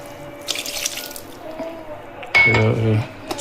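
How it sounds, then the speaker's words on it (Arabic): Water splashes and pours in a short, loud burst after a stretch of quiet background clatter, as water is tipped into whole-wheat toast bread dough in a bowl. "هنزود برضه ميه تاني"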